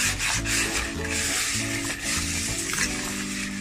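Butter wrapper rubbed around the inside of a baking tin while making a Victoria sponge, a close, steady papery scraping and rubbing in continuous strokes with no talking.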